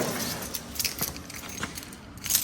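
Keys jangle close by in a rapid metallic rattle over a short stretch while a door is being unlocked, with a soft background hum and no speech.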